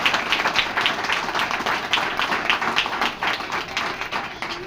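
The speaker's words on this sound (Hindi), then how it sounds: "मैं चाहूँगा एक जोरदार तालियां।" Audience at an anniversary event in a branch office claps together, a lively burst of many hands with a quick uneven rhythm, close and fairly loud, gradually thinning toward the end.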